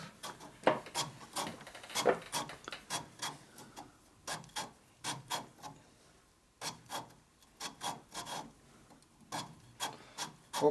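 Harley-Davidson 1942 WLA 45ci transmission parts grinding against each other in a series of short, irregular rasping strokes with brief pauses, close and fairly quiet.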